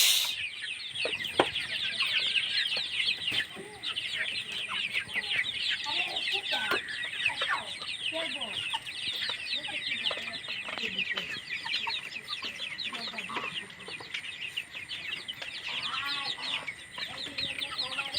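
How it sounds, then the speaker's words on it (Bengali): Several native village chickens cluck and chatter continuously nearby, a busy flock sound with scattered louder squawks, no clear talking. "এই যে আমার দেশি মুরগি"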